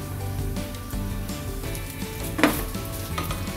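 Cassava maruya fritters frying in hot oil, a continuous close crackling sizzle with light stirring movements and one brief sharp clack partway through.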